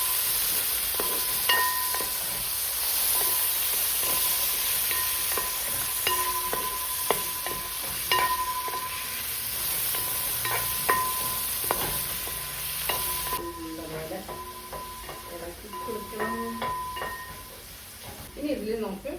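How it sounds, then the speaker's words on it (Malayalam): Tomatoes being stirred into conch stir fry in a hot pan, Kerala style, with steady sizzling and a run of scraping spoon strokes, while a voice talks over it. "എന്നിട്ട് നല്ലപോലെ ഇളക്കി കൊടുക്കണം."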